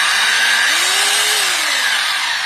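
A rotary hammer drill from a masonry drill kit runs in plain drilling mode, a loud, steady motor whine whose pitch dips and rises slightly, with no voices.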